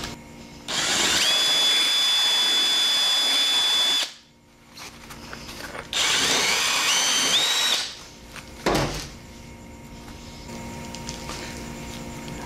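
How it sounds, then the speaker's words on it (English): A power drill with a reaming bit deburrs the inside of a steel collar in two long runs, a loud whining grind with screechy high tones, separated by a pause and followed by a quieter mechanical tail. "take a reaming bit and deburr all the stuff on the inside so it's not gonna get hung up when it goes around"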